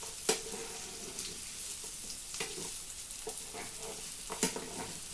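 Meat sizzles and fries in a pan for fusion tteokbokki, a steady crackling hiss with occasional stirring scrapes, close and continuous.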